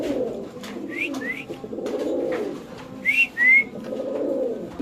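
Pigeons at a pigeon seller's place give soft, repeated rolling coos close by, with a few thin whistled chirps in between and no talking.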